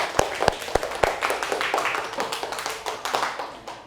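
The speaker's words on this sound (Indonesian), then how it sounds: "tepuk tangan buat kita semua" Classroom of pupils clapping together, a few sharp loud individual claps at the start giving way to a brisk, uneven patter of many small hands, close by.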